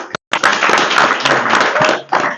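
A crowd at a Bihar political rally in Bodhgaya claps together, a dense, loud burst of applause after a brief pause, with some murmured voices mixed underneath.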